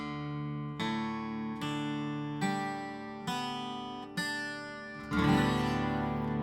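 Guitar strings strummed in open G tuning, six ringing chords spaced evenly, each left to sustain before the next, the last one fuller and brighter.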